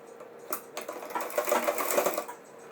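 A sewing machine stitches darts into a pajama, a rapid mechanical whirring burst that starts and stops in short runs, close and clear, with no voice.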